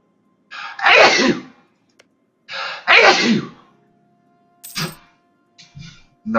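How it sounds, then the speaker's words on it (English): Two loud, close sneezes from one person about two seconds apart, each with a sharp inhale before the burst, followed by a few quieter breaths and small mouth sounds in an otherwise quiet room. "Sorry, I sneezed there."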